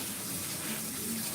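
Running water rinses purple shampoo off a dog during grooming, a steady close splashing wash that lasts the whole short moment without talk.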